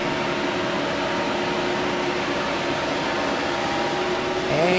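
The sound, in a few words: blower fan running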